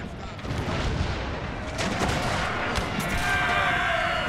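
Mortar artillery bombardment in a Total War game set in the Thirty Years' War, a continuous rumbling barrage of distant booms and crackling fire with a few sharper reports, no talking.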